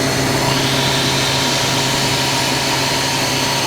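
A home freeze dryer runs alone at close range, giving a steady, loud mechanical hum with a constant motor and pump drone and no pauses.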